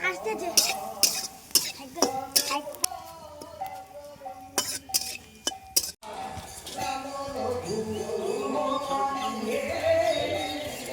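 Flattened rice (chira) dry-roasting in a pan without oil, with repeated clinking and scraping stirs at first, then a denser continuous rustling sizzle; music plays throughout.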